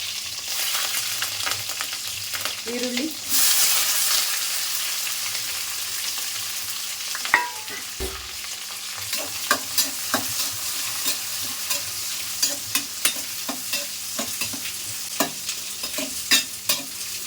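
Kirkasale greens stir-fried for palya in a hot pan, a steady broadband sizzle under repeated scraping and clanking of a spatula, with a few sharper knocks later on.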